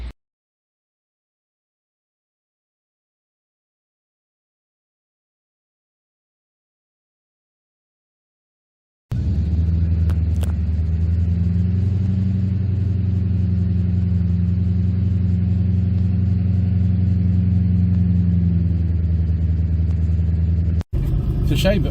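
A 1986 Rover 3500 Vitesse EFi SD1 V8 is heard from inside while it drives slowly on private land. After silence, a steady low engine rumble with mild revving runs close by, with brief clicks and knocks.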